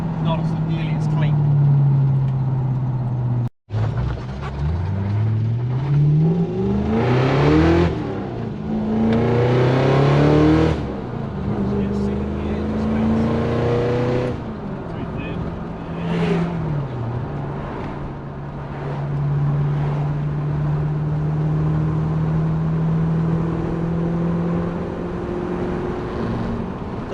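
A Mazda B2000 ute with a 1UZ engine swap, driving with the engine revving up and down through the gears under steady road and wind noise while people talk over it.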